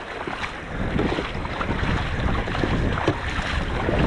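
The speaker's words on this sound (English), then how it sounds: "See how the waves are picking us up now." Waves lifting a rowing double boat on open water, a continuous rushing wash of surf and water noise with gusty wind buffeting the microphone, loud and close throughout without voices.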